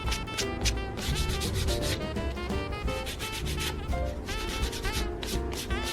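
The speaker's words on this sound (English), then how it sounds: "grab a light piece of sandpaper and just sand them down by hand" Wood sign pieces being sanded by hand with light sandpaper, a steady, continuous rubbing that runs the whole time under a busy tonal backdrop.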